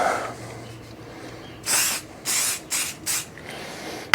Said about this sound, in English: I'm going to spray Activator on it.